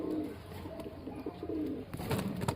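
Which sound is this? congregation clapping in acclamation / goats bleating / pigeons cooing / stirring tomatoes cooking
pigeons cooing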